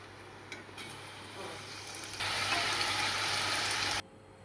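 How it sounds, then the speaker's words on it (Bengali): Ripe banana slices coated in cornflour and salt fry in hot oil with a steady sizzle that swells louder partway through, then cuts off abruptly. "নুন আর কর্নফ্লাওয়ার মাখিয়ে নিয়েছি, এবার একটু ফ্রাই করে নিচ্ছি তেলে।"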